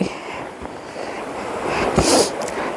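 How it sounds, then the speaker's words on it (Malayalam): A mountain stream in snowy Kolsai country near Almaty, Kazakhstan rushes in a continuous, moderately loud wash with some wind-like swells and no talking. "ഇതേ അരുവി"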